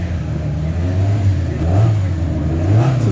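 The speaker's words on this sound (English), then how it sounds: "This is one of about 4 Sierra RS500s racing here this weekend" A Ford Sierra RS500 touring car racing at a historic grand prix, its engine droning and rising in revs as it accelerates, loud and steady throughout, with no talking.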